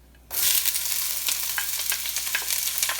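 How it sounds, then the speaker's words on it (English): Thinly sliced onions hit a very hot pan with spices for shrimp biryani, bursting into a loud, steady sizzle after a brief quiet start, with scattered crackles and pops continuing throughout, close and without talk. "I'm going to put the onions in here"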